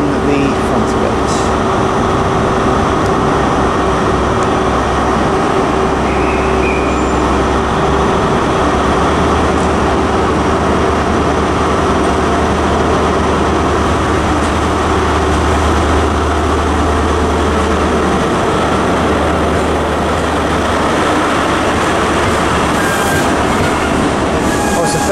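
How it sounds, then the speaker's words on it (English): A Great Western Railway train led by power car 43196 passes at Plymouth on the Great Western Main Line, a steady loud rumble with a low drone and rail noise lasting throughout, with a faint tone partway through. "the slightly delayed 1340 Great Western Railway service to Ivybridge, Totnes and Newton Abbot from Penzance, with 43196 on the front of it"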